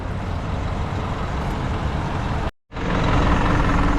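Heavy truck running close by with a steady loud engine rumble, cut by a brief total dropout partway through before the engine noise resumes.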